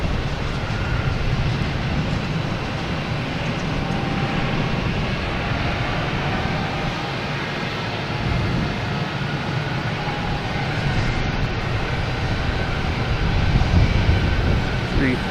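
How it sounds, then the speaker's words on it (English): A Delta Airbus A321neo bound for San Juan takes off from Boston Logan Airport, its jet engines producing a steady, broad roar that holds for about fifteen seconds and swells slightly toward the end. "Next taken off should be a Delta and A321neo heading to San"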